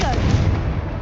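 A Confringo fire spell bursts in Hogwarts Legacy as a short, loud, booming blast with broad crackling noise, filling the whole brief moment.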